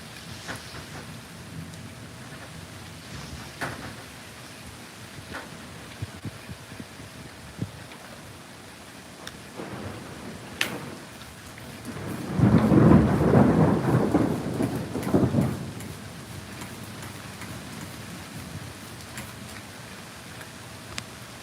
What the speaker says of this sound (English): Nice, calm, stormy night.